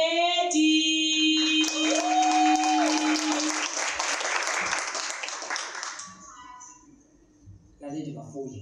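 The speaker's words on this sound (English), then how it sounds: "A round of applause for Naledi" Audience applause for a poet at a slam poetry competition rises under sustained musical tones, a dense clapping wash that gradually fades out, with a voice briefly heard at the end.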